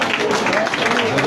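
A campaign endorsement rally crowd applauds Dr. Toga, with steady broadband clapping mixed with voices throughout the short stretch.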